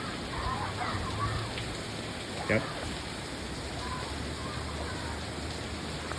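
Heavy rain pours steadily outdoors, a dense continuous hiss that fills the scene, while a person briefly says a word over it partway through.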